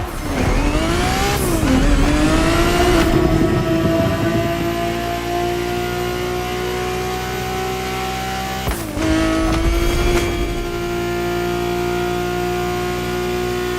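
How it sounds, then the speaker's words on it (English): A Ferrari 365 GTB4 engine racing in The Crew Motorfest, a loud sustained drone that climbs and drops through gear changes near the start and again later, with no talking. "The Ferrari 365 GTB4 is the perfect vehicle for you to experience Ferrari racing as it felt back in the 70s"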